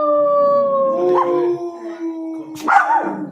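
A dog howls in long, wavering tones, with a second howl rising near the end. The sound is close and clear, with no talk over it.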